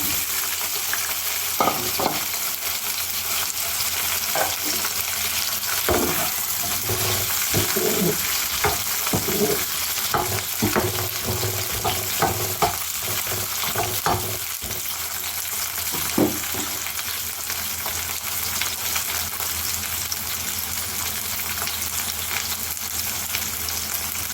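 Chopped ivy gourd pieces frying in a pan, a continuous loud sizzle broken by repeated clacking stirs and scrapes of a utensil, close up with no voices.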